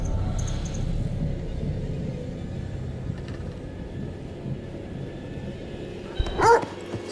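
A dog in the horror video game The Devil in Me barks and whimpers over a low, rumbling game ambience, with a few sharp yips that rise to a louder burst near the end.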